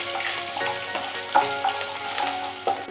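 Ginger, curry leaves and sliced green chili frying in a pan for rava khichadi, with a bright continuous sizzle and a few sharp metallic taps and scrapes as a spoon stirs them, close and alone.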